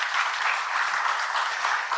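Sustained audience clapping in a Barbados morning show setting, a dense even wash of many hands that holds steady from start to end.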